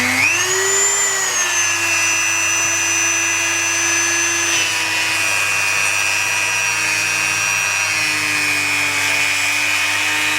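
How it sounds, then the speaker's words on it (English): A Dremel rotary tool cuts through putty on a model car body, its high, steady whine held up close and loud for the whole stretch, pitch sagging slightly as it bites into the material. "Now the Dremel will actually go through the putty pretty easily."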